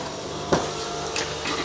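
A sewing machine hums in a brief, steady run while stitching the body of a pair of shorts, with faint ticks over the motor noise.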